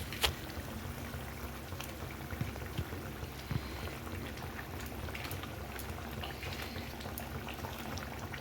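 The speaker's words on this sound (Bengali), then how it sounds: "এবার এটাকে ফুটিয়ে নেব। দেখুন ফুটো গেছে।" Soybean kofta curry gravy boils in a pot, a dense, continuous bubbling and popping that stays close and steady throughout, with no voices.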